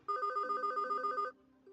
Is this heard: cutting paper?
no